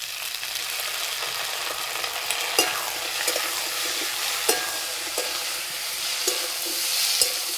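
Potato and cauliflower stir-fry in hot oil with ginger garlic paste, giving a continuous bright sizzle broken by several sharp scraping stirs at irregular intervals.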